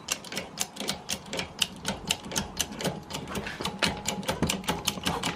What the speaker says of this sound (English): Okay, I'm gonna jack it up real quick. Okay, it's much easier to pump with the bike on there.